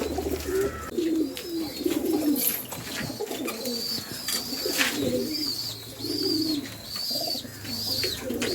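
Domestic pigeons kept and flown by a breeder coo repeatedly in a steady, rhythmic series, fairly close and clear, with a low background hum and no talking.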